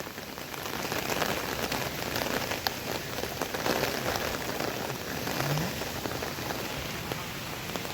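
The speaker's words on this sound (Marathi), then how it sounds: "हे बघा आता किती पाऊस पडत आहे बघा आमच्या इथं." Heavy rain pours down outdoors in a constant, dense hiss of drops hitting surfaces, loud and even throughout with no pauses.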